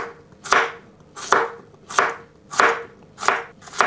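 Vegetables are roughly chopped with a knife on a board, five crisp, evenly spaced cuts that are close and loud, with no talking.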